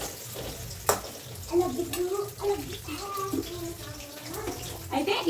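Halved bitter gourds fry in a metal pan with a steady, soft sizzle and occasional stirring clinks, while a voice talks over the cooking.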